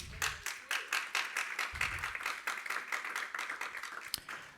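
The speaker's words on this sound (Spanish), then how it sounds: "Dale palmas al Señor." A church congregation claps together in a steady, rhythmic beat throughout, with one sharp louder clap near the end and no talking over it.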